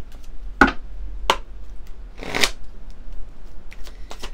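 A deck of oracle cards is shuffled up close in several quick riffling bursts separated by short pauses, with faint rustles in between.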